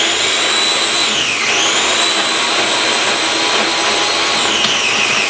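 A food processor whirs at high speed while pureeing orange carrot cake ingredients, a loud, steady motor roar whose pitch dips and recovers twice as the load shifts, with no talking.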